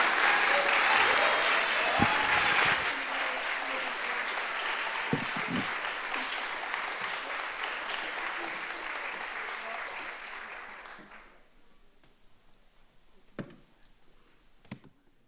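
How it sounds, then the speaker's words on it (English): An audience claps after a talk, a full round of applause that holds steady for about ten seconds and then tapers off into quiet, leaving a few scattered taps and faint room noise. "Give them another round of applause."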